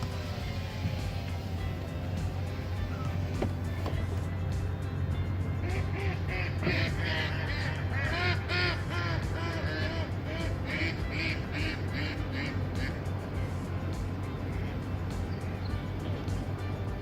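Backyard poultry clucking and calling in a busy outdoor yard, with bursts of bird calls through the middle and a steady low hum beneath, a few faint voices in the background.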